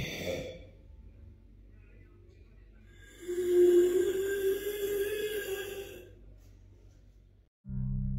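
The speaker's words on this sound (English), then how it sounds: "A terrifying noise resembling raspy breathing and moaning echoes from somewhere in Francesco's house." Eerie raspy breathing with a drawn-out moaning tone in the middle, faint and echoing in a quiet room, ending abruptly with a louder noise.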